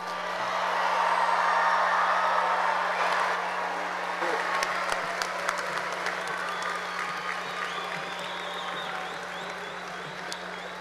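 Sustained audience applause rises for graduates at the Groves High School 2025 graduation ceremony, a broad crowd wash that gradually thins and fades with scattered claps.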